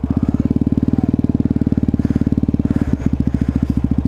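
An Aprilia RS4 motorcycle runs close by with a loud, rapid, even single-cylinder engine pulse that holds steady throughout, with only a brief hitch near the end.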